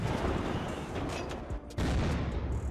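Continuous gunfire in the survival video game Unturned during a base raid, a dense, loud stream of shots with a brief pause before resuming.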